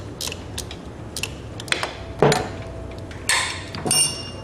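Loosening bolts on a motor mount bracket: scattered metallic clicks, ratcheting ticks and clinks with a couple of louder knocks and scrapes, close by, with no talking.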